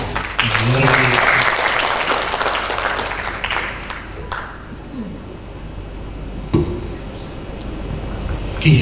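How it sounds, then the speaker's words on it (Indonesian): Audience applause at a national retreat, a loud burst of clapping that fades over several seconds, leaving a quieter room with scattered sounds and a couple of thumps. "Sekali lagi kasih tepuk tangan yang luar biasa."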